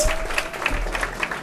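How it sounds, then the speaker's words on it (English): Audience applause at a Key to the City ceremony in North Miami, a short steady wash of many hands clapping with a faint voice beneath it. "Come on, let's give them a round of applause."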